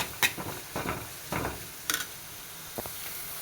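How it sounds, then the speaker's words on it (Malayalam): Onion sautéing in a pan with cinnamon, cloves and cardamom, giving faint intermittent sizzles and stirring scrapes at close range, with quiet gaps between bursts. "ഒന്ന് വഴറ്റി കൊടുക്കാം."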